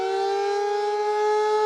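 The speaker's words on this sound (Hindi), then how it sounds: "हवाई हमलों की वार्निंग देने वाले सायरन बजाए जाएंगे, जैसे इस वक्त बज भी, आप सुन भी पा रहे" Civil defence air raid warning siren sounding during a mock drill, a loud steady wailing tone held without a break, with no voices over it.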